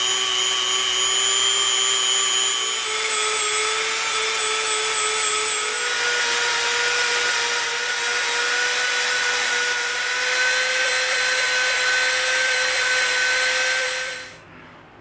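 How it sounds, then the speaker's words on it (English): A Dremel rotary tool whines steadily at high speed while rounding off the edges of EVA foam for a shield, running loud and continuous for about fourteen seconds before spinning down. "we're going to be coming in with the Dremel and we're going to be rounding these off all the way around"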